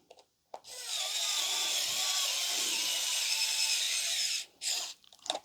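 A KAiWEETS ES21 electric screwdriver whirs steadily for several seconds as it drives screws, then stops and gives a short final burst, close and clear with no talking.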